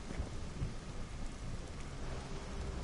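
A thunderstorm in the video game God of War III, with steady heavy rain and low rumbling thunder rolling underneath, a dense continuous wash of storm noise at moderate level and no voices.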